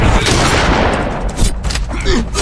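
Gunfire rings out in a film battle scene as one gang attacks another, a dense burst of shots and booms filling the whole stretch at close, loud level.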